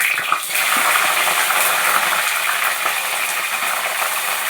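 Small onions hitting hot oil with mustard seeds, a dense, steady frying hiss that starts abruptly and stays loud throughout, with faint stirring clicks beneath.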